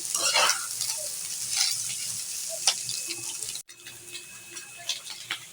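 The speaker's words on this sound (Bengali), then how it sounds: "নেড়ে চেড়ে ভালো করে মিশিয়ে নিচ্ছি।" Chicken liver with chili powder stirred in a pan hisses and scrapes softly, with irregular spoon clatters over a continuous frying sizzle.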